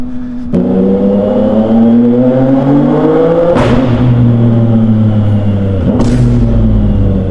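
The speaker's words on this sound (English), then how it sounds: "And those cracks and pops when you're taking off" A modified 2026 CFMOTO 675 SR-R motorcycle engine revs loudly up close, its pitch rising and falling as it pulls away, punctuated by three sharp exhaust cracks.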